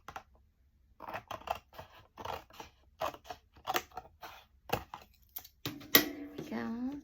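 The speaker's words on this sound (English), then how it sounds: "I'm just going to trim, see how it's kind of janky like that?" Scissors trim paper notebook pages with a run of crisp, close snipping cuts in an uneven rhythm, followed by a voice speaking at the end.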